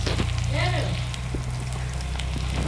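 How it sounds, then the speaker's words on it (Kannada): Onions sizzle steadily in hot oil in a pan, a continuous close crackle with occasional small pops and stirring sounds. "ಉಳ್ಳಾಗಡ್ಡಿ ಒಂದು ಸ್ವಲ್ಪ ಫ್ರೈ ಮಾಡ್ಕೊಬೇಕ್ರಿ"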